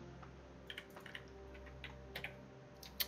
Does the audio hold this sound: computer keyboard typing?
yes